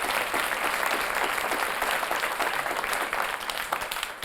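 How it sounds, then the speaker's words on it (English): A crowd applauds spelling bee contestants at the Kenya Spelling Bee, steady dense clapping throughout with no pause. "So if we could just give everybody a round of applause"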